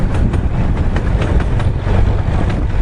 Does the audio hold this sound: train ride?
yes